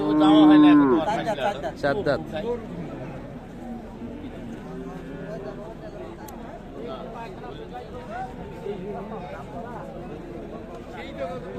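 A cow at the Ambari cattle market in Dinajpur lets out a loud, close moo at the start, followed by a low murmur of market crowd noise as people talk nearby.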